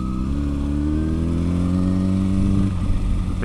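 A Zero S electric motorbike on the move gives a close, steady motor tone that climbs slightly in pitch over road and wind noise, with no talking.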